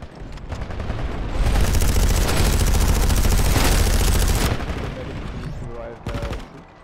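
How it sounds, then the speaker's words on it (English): Constant suppression fire during a training day, sustained dense gunshot bursts running loud and continuous for several seconds before easing off, with a few scattered shots near the end. "So they're usually coming around here, so do suppression fire. Constant."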